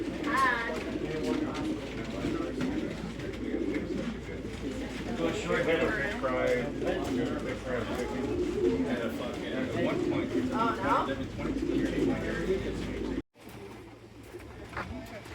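Many racing pigeons coo and flutter together in a busy chorus at a pigeon clubhouse, with people talking over them, before the sound cuts briefly.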